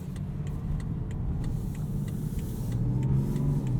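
Inside a 2017 BMW X5 xDrive35d on the road, the diesel engine gives a smooth, quiet low hum under steady road noise, with faint intermittent ticking.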